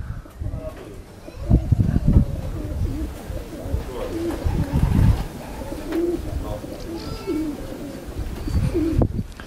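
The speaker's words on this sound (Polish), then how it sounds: "Gołębie już wróciły się, jedne przychodzą z kierunku, drugie z tyłu." Racing pigeons returning to their loft coo close by in repeated soft, throaty calls, with bumps and fluttering around them and people talking quietly in the background.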